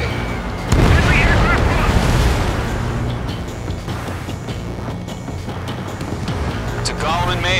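A missile launch and explosion in the jet combat game Ace Combat 7 with an ADF-11F Raven, a heavy boom followed by a long rumbling roar of jet engines, with radio chatter over it.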